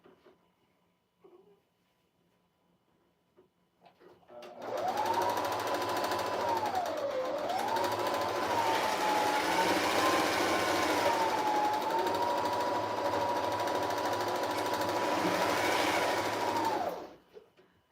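A sewing machine runs with no bobbin loaded, starting after a few seconds of near silence and whirring steadily for about twelve seconds with a slightly wavering motor pitch before stopping abruptly, close and alone.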